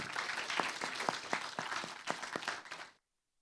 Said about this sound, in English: Let's have a big round of applause to this excellent panel.